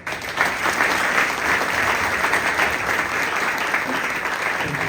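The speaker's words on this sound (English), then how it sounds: "Let's give them a well-deserved applause" Audience at an evening generative AI panel applauds the panelists, a steady, full round of clapping that holds at an even level throughout with no one speaking over it.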